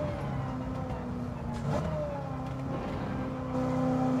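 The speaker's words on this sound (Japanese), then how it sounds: "ブラーンみたいな V8 サウンド、 V8 スーパーチャージャーサウンド" Supercharged V8 of Dominic's Dodge Charger revving in Gran Turismo 7, a steady loud engine drone with a rising rev sweep partway through, continuous for the whole stretch.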